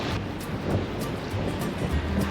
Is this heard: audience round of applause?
no